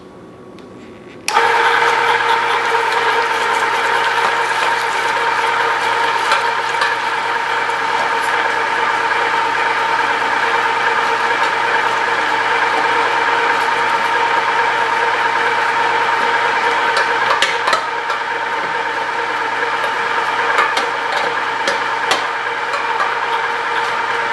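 A Fabio Leonardi electric grinder switches on with a sudden start and then hums and whines steadily as it grinds red pepper pieces for Portuguese-style hot pepper paste, loud and unbroken throughout.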